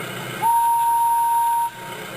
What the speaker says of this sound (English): she blew her whistle as loud as she could.